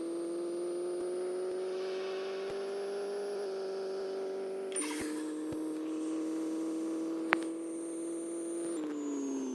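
Steady engine drone from a car in the Pixel Car Racing video game, holding a constant pitch with a brief shift partway through and a faint click near the end, with no talk.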